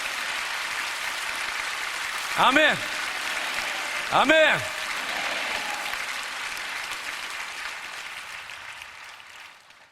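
A church congregation bursts into applause during a worship service, the clapping rising from a steady hiss of crowd noise, while a voice calls out twice over the steady crowd wash and the sound slowly fades.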